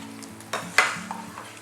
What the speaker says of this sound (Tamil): நல்ல மொறுன்னு ஆகிற அளவுக்கு நம்ம வறுத்து எடுத்துக்கணும்